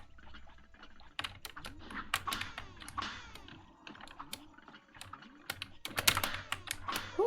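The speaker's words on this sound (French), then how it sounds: "désolé si vous entendez mon clavier." A computer keyboard is typed on rapidly during gaming, with irregular clusters of sharp, fairly close key clicks over faint game sounds and no talk.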